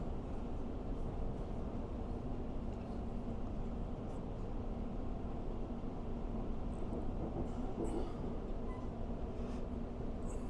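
An Elizabeth line passenger train runs on a flyover, giving a steady, continuous rumble and rolling rail noise heard from on board, even and moderately quiet for the whole stretch.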